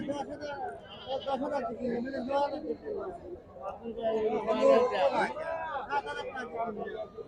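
Native goats at a busy goat market bleat repeatedly, close and fairly loud, amid the chatter and babble of people talking all around.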